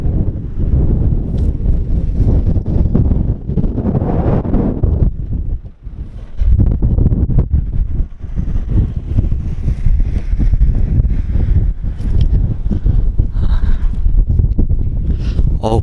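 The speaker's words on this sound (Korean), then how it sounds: "바람이 세서 제 목소리가 잘 안 들릴 것 같네요." Strong wind gusts roar into the microphone at Hangyeryeong pass on Seoraksan, loud and constant for the whole stretch with a brief lull, and someone speaks faintly beneath it.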